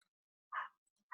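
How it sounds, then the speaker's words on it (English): A single dog's short bark or yip, faint and somewhat distant, in an otherwise quiet indoor room, followed by the start of a second bark at the very end. "I'm so sorry they're barking."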